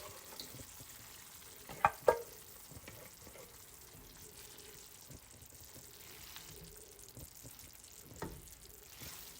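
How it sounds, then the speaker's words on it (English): A second can of tomato sauce tipped into a pan of meatballs over very low heat, giving a soft, steady sizzle and bubbling with a couple of sharp clunks from the can early on, then quiet stirring. "I'm going to add my second can of tomato sauce"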